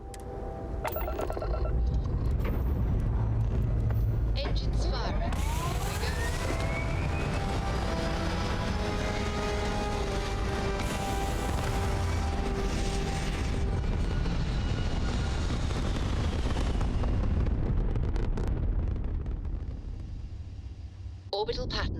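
A spaceship lifting off in Starfield: a loud, sustained engine roar with rising whine and swelling rumble, building steadily and holding for about twenty seconds before easing off, with a voice speaking over it.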